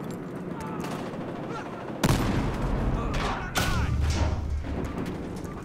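Gunfire and a grenade blast in the video game Battlefield Hardline: loud heavy booms land abruptly twice amid continuous rumbling battle noise, with a player's voice talking over the action.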